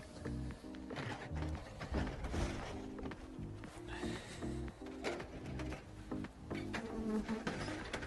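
Honeybees buzz around beehives at an apiary in November as light rain begins, a dense, steady hum with layered droning tones that fills the whole stretch without pause.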